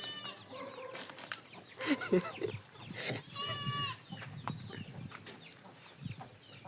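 Aseel chickens and roosters on a farm give scattered clucks and squawks. A goat-like bleat and other farm animal calls join in, mixed with outdoor noise at moderate distance, with nobody talking.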